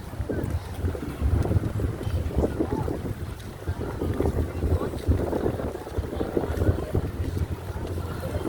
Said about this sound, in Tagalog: mahangin no oh. lakas sarap ng hangin